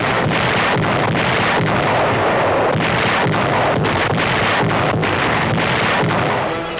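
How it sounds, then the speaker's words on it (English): WWII Allied artillery fires on the Italian front, heavy booms and sharp blasts repeating irregularly over a continuous rumbling, noisy wash, loud and sustained with no voices. "Closes down on the Italian front, and Allied guns stab at the Nazis."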